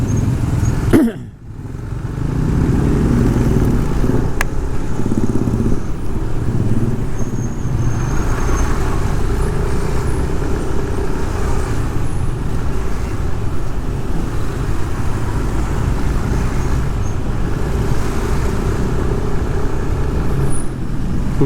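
Cars and motorcycles sit in a long traffic jam on Jalan Raya Canggu in Bali, giving a steady, close rumble of idling and creeping engines that carries on for the whole stretch, with a brief thump near the start.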